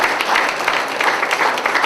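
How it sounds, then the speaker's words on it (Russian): Dense, steady applause from a church congregation at a baptism service, filling the whole brief moment at an even, fairly loud level. "Можем аплодисментами Господа прославить"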